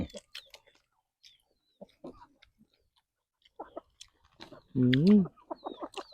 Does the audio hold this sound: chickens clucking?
yes